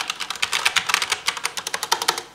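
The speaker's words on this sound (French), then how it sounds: "on est sur un clavier mécanique" Typing on a Corsair K63 mechanical keyboard: a close, fast run of crisp key clicks and clacks in uneven bursts, with no voices over it.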